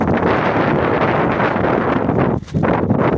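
Strong wind buffets the microphone in a steady roar at a seaside pier in Biliran in the Philippines, with a brief lull near the end before the gusting resumes.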